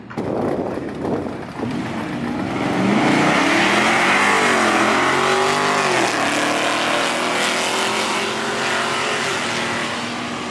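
Race cars launch hard down a drag strip at a track day, engines roaring loud and close with rising revs through the gears, holding a sustained high-pitched howl as they pull away.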